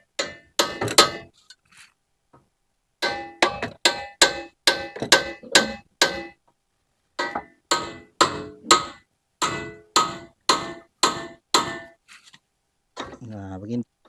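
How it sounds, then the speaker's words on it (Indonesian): Metal-on-metal hammer blows striking a car steering knuckle to free a worn long tie rod, sharp ringing hits in quick bursts of three to six, loud and close, with short pauses between groups and a brief voice at the end. "Kemudian kita palu."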